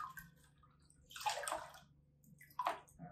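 Wet knitwear being squeezed and blocked gives faint, close sloshes and gurgles of water in two short bursts over quiet background.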